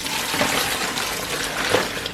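Running hot water rinses soap-making equipment down a drain, a steady broadband gush and splash holding level throughout with slight surges, close and alone with no talk.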